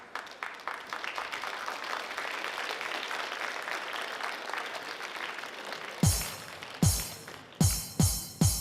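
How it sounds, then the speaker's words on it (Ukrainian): A talent-show audience on Україна має талант applauds an accordion player, sustained crowd clapping for several seconds, then cut off by a few sharp, loud percussive hits. "Ваші оплески!"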